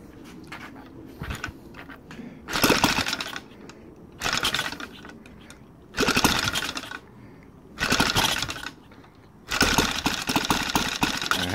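An OS FT 300 model engine converted to run on gasoline with CH ignition runs and idles, rising to louder bursts in several repeated throttle blips between steadier lower running, close and continuous.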